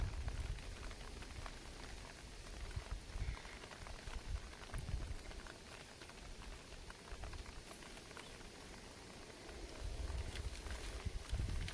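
Rain falling outdoors during a macro exploration among dark rocks, a steady soft patter of drops with occasional crunching footsteps, even and fairly faint throughout.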